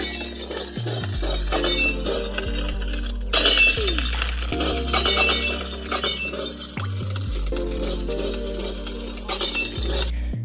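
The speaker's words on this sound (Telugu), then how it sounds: "అక్కడ దానికి గ్లాస్ బ్రేక్ అయ్యే సౌండ్ కూడా పెట్టారు ఎఫెక్ట్ కింద" A glass-breaking sound effect played on a glass bridge attraction in China: sudden loud cracking and shattering bursts over a steady low rumbling bed of sound, with no talk.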